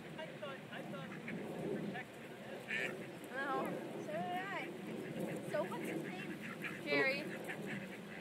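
A pet duck or goose honks and quacks in short bursts outdoors, fairly close, while people talk over and between the calls.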